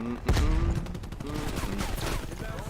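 Video game gunfire and a thrown frag grenade: a heavy blast-like burst near the start, then sustained rapid shots, with background music or voices underneath.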